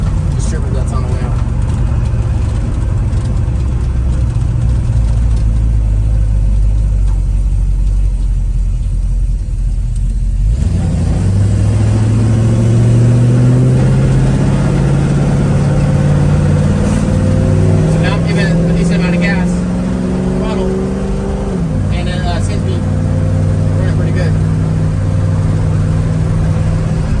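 A carburetted V8 car engine with a Pertronix distributor and noisy lifters runs from a rough idle and revs up after a 4-degree ignition timing change, the low rumble rising and settling over the stretch, with someone talking over it.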